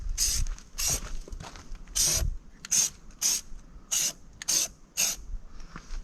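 Rust-Oleum spray paint can spraying paint onto a van, in about eight short, loud hissing bursts separated by brief pauses.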